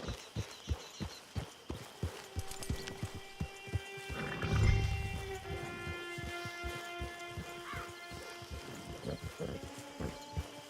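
Horse in the Red Dead Online video game, steady rhythmic hoofbeats that come close and loud, with a snort or whinny midway, over a game score and ambient sounds.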